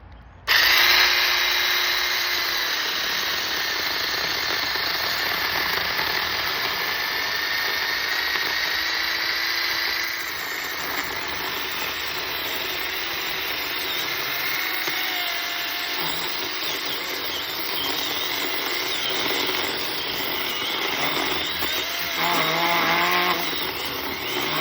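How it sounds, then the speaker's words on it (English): A small chainsaw cuts through a tree branch, its engine revving loud and close in a sustained high whine that shifts in pitch as the chain bites into the wood, with no talk. "We're gonna cut that off and I'm gonna use this little chainsaw."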